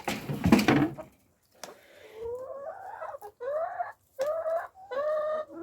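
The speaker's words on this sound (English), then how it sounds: "I'm just feeding my chickens, Varney." Backyard chickens cluck and call repeatedly at close range while being fed, a series of rising, tonal clucks after a brief burst of rustling and noise at the start.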